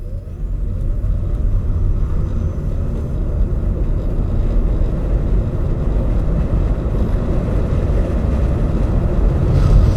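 A 2017 Hyundai Ioniq Electric car accelerates, giving a loud, steady low rumble of road and wind noise with no engine note, constant from start to finish.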